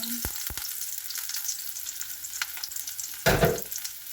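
Onion and garlic sauté in hot cooking oil with a continuous close hiss and crackle, some light clicks from stirring, and a brief louder burst of sizzling and clatter late in the clip, with no talking.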